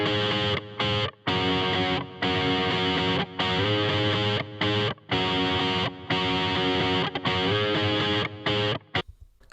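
Distorted electric guitar plays alone, a loud, thick, sustained riff broken by brief rhythmic stops, ending abruptly.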